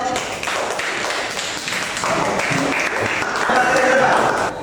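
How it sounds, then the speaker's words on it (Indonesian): Students clap together in a classroom during a school counselling lesson on managing emotions. The clapping is lively and dense, with voices talking underneath and the sound swelling slightly toward the end. "Oke, tepuk tangan buat Kamel."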